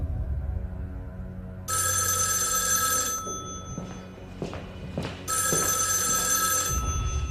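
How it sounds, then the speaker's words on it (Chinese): An old-style telephone bell rings in a tense office scene from a period spy drama set in Beiping, sounding in two loud, jangling bursts separated by a short pause and a few soft knocks. "请问调查组，我们能接电话吗？"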